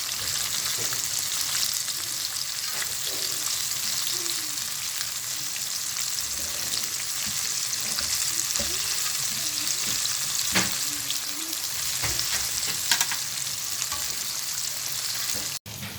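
Chicken burger patties for a crispy zinger-style burger fry in hot oil with a steady, dense sizzle that holds evenly throughout, broken by a few faint clicks and pops, with no talking.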